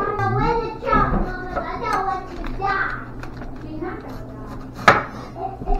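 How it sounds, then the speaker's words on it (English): A knife chops cabbage on a board in quick strokes, heard under steady conversation and a voice, with one louder chop standing out. "I am now chopping up my cabbage"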